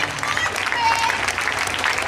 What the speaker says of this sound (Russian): Аплодируем, аплодируем финалистам.